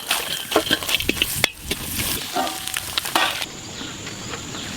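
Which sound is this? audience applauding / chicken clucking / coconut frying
coconut frying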